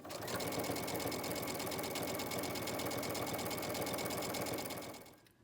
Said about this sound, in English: go ahead and finger press your strap and sew all the way down, securing it at the very end